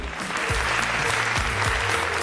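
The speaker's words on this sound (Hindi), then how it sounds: "एक बार जोरदार तालियां हो जाएं।" Studio audience applause on an Indian TV talent show, brief continuous clapping under a faint musical sting with low tonal swoops from the show's sound effects.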